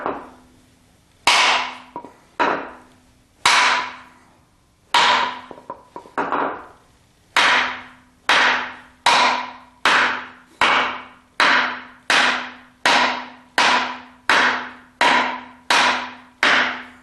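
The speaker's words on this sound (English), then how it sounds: "So I'm going to get a piece of wood and a heavier hammer." A heavier hammer strikes a piece of wood placed against a 1976 Corvette's harmonic balancer during installation, giving about fifteen loud, sharp, close knocks, irregular at first and then steady and evenly spaced.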